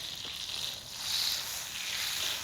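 Soft, steady sizzling hiss of butter in a hot pan outdoors in the woods, faint and continuous, swelling slightly midway, with no voices.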